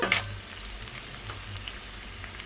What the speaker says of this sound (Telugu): క్రిస్పీ అయ్యేటగా ఫ్రై చేసుకుంటూనే ఉండాలి